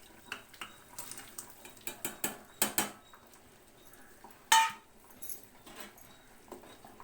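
Chopped potato and tomato tossed into a pot of horse gram sprout sambar, giving a run of light clinks and clatters of pot and utensil, with one sharper clank midway, fairly close and without talk.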